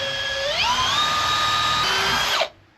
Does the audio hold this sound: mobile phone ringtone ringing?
no